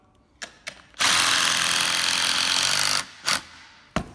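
Power drill driving screws into the wooden beam of a flat bank kicker skate ramp, one loud sustained whirring burst of about two seconds between short clicks and bumps.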